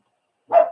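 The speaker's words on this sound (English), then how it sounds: "It's all right, just worried why she's barking, that's all." One short, sharp dog bark breaks the silence, close by and moderately loud.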